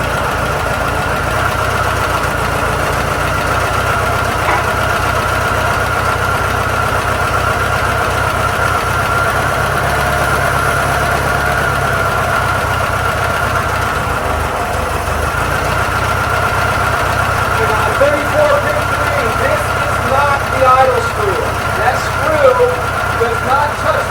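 A 1972 VW Super Beetle engine running with a steady, loud, rattly idle that holds throughout, while people talk over it.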